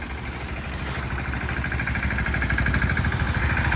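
A Swaraj single-cylinder tractor engine runs steadily nearby, with a low, even chugging throb that holds at a constant loud level throughout.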